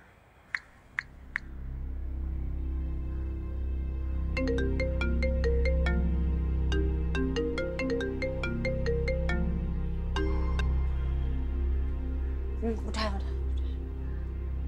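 A phone ringtone repeats in a steady pattern of bright, evenly spaced tones over a sustained background bed, after a few short clicks at the start, suggesting a call being dialed and ringing out.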